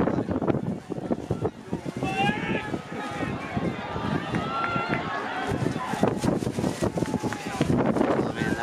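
Wind buffeting the microphone outdoors at a high school 4x4 relay final, a rough, fluttering rumble throughout, heard under excited talk and crowd noise.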